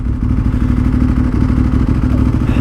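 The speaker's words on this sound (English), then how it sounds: "I can still hear the bike underneath me" Motorcycle engine running steadily beneath the rider on the move, a loud, continuous low rumble with a droning hum and faint clatter, no talk.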